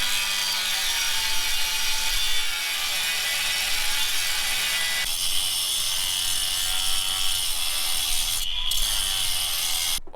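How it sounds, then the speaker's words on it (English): An angle grinder fitted with a diamond cut blade cuts through angle iron, giving a loud, continuous high-pitched whine and grinding rasp that holds steady for about ten seconds, heard close up with no talking. "I grabbed our grinder with our diamond cut blade, and hopefully this will do the trick"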